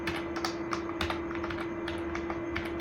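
Quick, steady typing on a computer keyboard while setting up a JavaScript file: dense clicky keystrokes close to the mic, with a constant electrical hum underneath and no talking.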